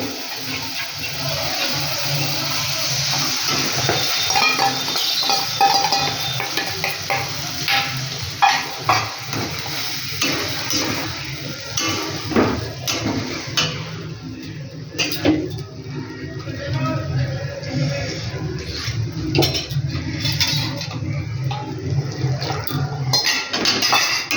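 Peas and whisked yogurt being stirred in a kadai over a low flame, with a spoon scraping and clinking against the pan amid a soft, continuous sizzle, steady throughout with small knocks.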